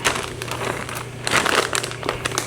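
A plastic bag holding wings in pickle juice brine crinkles and crackles as air is pressed out of it, with a few sharper rustling bursts close by.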